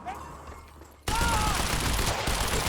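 Dense gunfire bursts from the Quantum Break video game, loud and continuous after a sudden onset, with distant shots beforehand.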